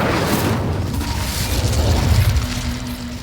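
Incendio fire spell cast in a Harry Potter video game, a loud roaring whoosh of flame with heavy low rumble sustained for a few seconds before easing off.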